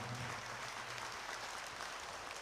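Steady, fairly faint applause from an audience at a church festival, an even wash of clapping with no clear breaks over a couple of seconds.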